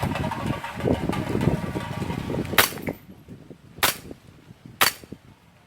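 A BB gun fires at glass bottles: after a rumbling, busy stretch, three sharp, isolated cracks ring out about a second apart, close and loud in the quiet.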